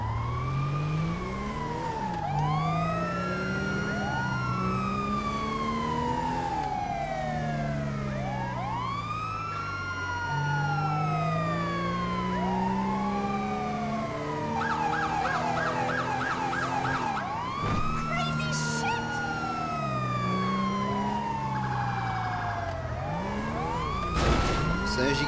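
Wailing and yelping ambulance sirens in GTA5 sweep up and down continuously, loud and steady throughout, several siren tones overlapping with a brief electronic horn burst partway through.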